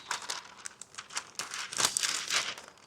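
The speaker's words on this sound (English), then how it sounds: "baking paper, fold it in half" Crisp crinkling and crumpling of baking paper being folded in half, several quick rustles close up, with a louder crunch near the middle.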